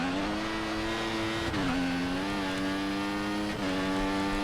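Formula 1 race car in the F1 2014 video game, a loud high-pitched engine whine that dips sharply under braking twice and climbs again as it accelerates, steady and with no talking.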